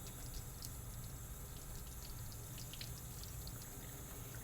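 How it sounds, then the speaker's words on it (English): A microscope slide is rinsed under a running tap at a lab sink, giving a steady, fairly quiet rush of water with no pauses. "rinse the slide under running tap water"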